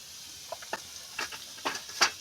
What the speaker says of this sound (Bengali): এইভাবে আমি ভালো করে পেঁয়াজটা নেড়ে চেড়ে বেরেস্তার মতো ভেজে নেবো